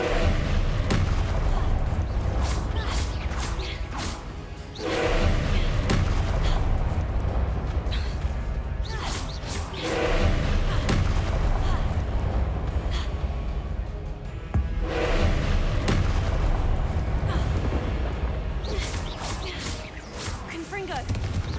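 Confringo spell blasts in a Hogwarts video game, a rapid series of booming explosions and crashing impacts with whooshing bursts, loud and dense, erupting roughly every few seconds over a continuous rumbling background.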